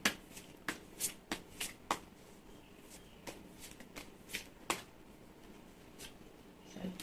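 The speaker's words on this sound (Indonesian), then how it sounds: "Saya buka 5 kartu ya." Oceanic Tarot cards are shuffled and dealt one by one, giving a series of sharp, close papery snaps and flicks at an irregular rhythm, with quieter rustling between them and no talking.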